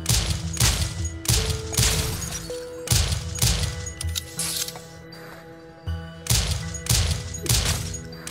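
Gunfire in the video game Rise & Shine: repeated loud bursts of shots fired in quick clusters, separated by short lulls, over a steady game soundtrack.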